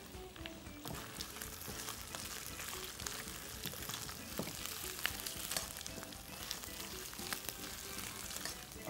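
Chicken with onions, ginger and garlic frying in a kadai, giving a steady, dense sizzle and crackle that runs the whole time at close range, with occasional light stirring scrapes and no voices.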